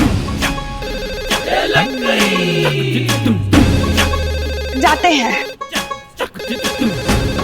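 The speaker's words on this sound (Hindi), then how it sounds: "आपके डेस्क पे फोन बज रहा है, उठाइए जाइए" A telephone rings repeatedly on an office desk, its bell sounding in bursts while people talk over and around it in a busy indoor scene.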